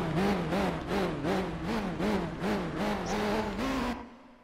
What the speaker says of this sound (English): Kind of an engine sound was that?